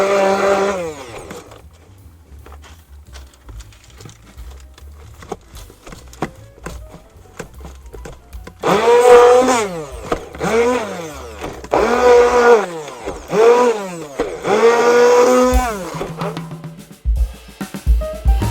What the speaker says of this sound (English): I will then process this lemon juice and basil down